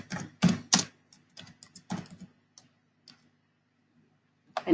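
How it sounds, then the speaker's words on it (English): A computer keyboard types code into a Jupyter Notebook during Python practice. There are bursts of crisp, close keystrokes, a quick cluster at the start, sparser taps with pauses, and another keypress at the end. "I want to type a single statement here"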